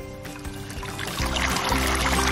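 Water poured over a little girl's hair, a soft steady splashing and trickling stream close by that grows slightly louder toward the end, with no talking.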